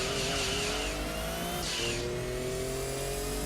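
A Mazda race car in a one-make race in Gran Turismo 2, its engine held steady under feathered throttle with a loud, continuous drone, brief whooshes of surrounding cars passing close by.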